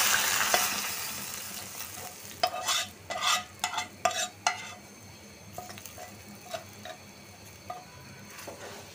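Lentil dal tempered with onions fried until red: a steady sizzle from the hot oil under a cluster of sharp scraping and clattering stirs in the pan, louder in the middle, with no voices.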